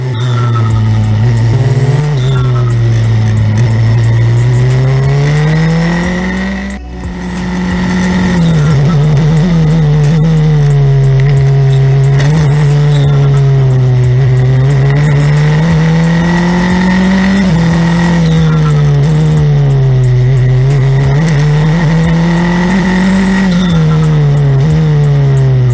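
F4 single-seater race cars scream along a night street circuit in India, one engine close and loud throughout with rising and falling pitch through gear changes, a brief dip midway, and other cars audible behind.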